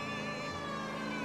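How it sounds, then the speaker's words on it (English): A police car siren wails in the video game L.A. Noire, a steady wavering tone held alone and fairly faint over engine rumble. "Throw the sirens on."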